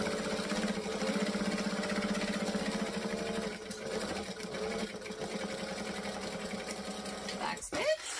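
A sewing machine runs near and steady in a continuous buzzing whir, stitching forward then reversing for a back stitch, pausing briefly before a short clack at the end.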